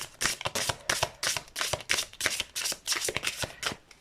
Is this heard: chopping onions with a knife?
no